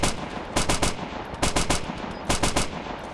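Bursts of automatic gunfire from a military shooter game, three rapid volleys of several shots each separated by short pauses, loud and close.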